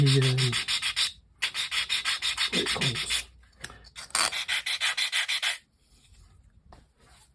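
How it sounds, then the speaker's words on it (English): Rhythmic rasping strokes of hand sanding on a small wooden part for a 1:84 scale model ship's lifeboat, close and steady in bursts with short pauses, and a brief spoken phrase partway through. "it's just a case of very carefully sanding everything into the shape that we need"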